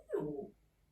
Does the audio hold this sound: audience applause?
no